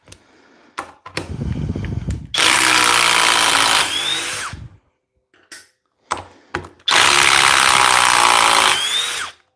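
Power drill driving fasteners at top speed: two long, loud whining bursts, each preceded by shorter clicks and starts and ending in a falling motor tone, separated by near silence, with no talk.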